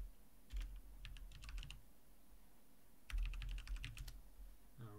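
Commands being typed on a computer keyboard while installing Wazuh SIEM on Ubuntu: two close bursts of rapid key clicks with a short pause between them, and no talking.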